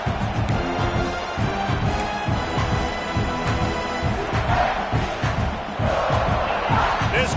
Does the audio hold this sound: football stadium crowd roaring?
yes